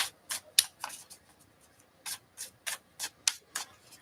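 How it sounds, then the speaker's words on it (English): Tarot cards being shuffled by hand, a series of short crisp rubbing riffles in an irregular rhythm with a brief pause midway, close and fairly quiet with no talking. "One more shuffle here."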